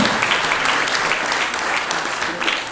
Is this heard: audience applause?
yes